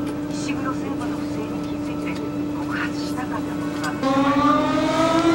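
A Kyushu Yusen jetfoil engine starts up aboard the passenger cabin with a steady siren-like wail that rises sharply in pitch and volume at about four seconds, heard from inside over a low hum of cabin noise.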